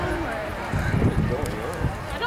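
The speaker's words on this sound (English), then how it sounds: "walk your horses up towards the back of the wagon" Horses walk up behind a wagon at a wagon-train gathering, their hooves clip-clopping in a loose, uneven rhythm under steady talk and crowd noise.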